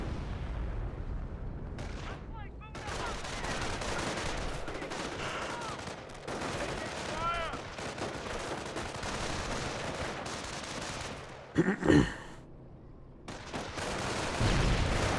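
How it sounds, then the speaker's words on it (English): Company of Heroes battlefield with incendiary mortar fire and rapid gunfire, crackling bursts throughout and a loud nearby mortar impact near the end, with distant rumbles between. "and incendiary mortar landed right there"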